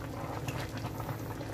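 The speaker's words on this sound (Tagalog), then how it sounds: "kumukulo" A pot of water for Filipino pork stew boils at a close distance, with dense, steady bubbling and popping and no voices.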